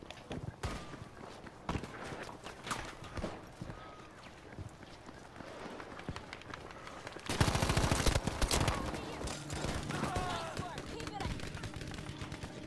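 Rapid bursts of pistol fire in a Battlefield V multiplayer match, with scattered shots and footsteps early, then a loud dense volley of gunfire and explosions in the latter half.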